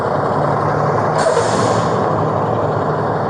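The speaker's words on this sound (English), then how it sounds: "That truck's going to be really loud." A loud truck passes close by in a continuous roar, and a sharp hiss of air brakes bursts out partway through. No one speaks.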